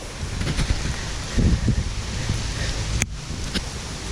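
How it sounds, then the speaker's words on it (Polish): A heavy downpour pelts the ground on an outdoor digging expedition, a steady close hiss with gusty swells and a few sharp knocks, no voices. "Pada deszcz."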